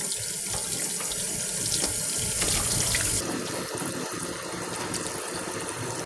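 Tap water runs steadily into a sink while pork ribs for Korean galbi-jjim are rinsed, a constant close splashing hiss with shifting spatter as the meat moves under the stream; no talking.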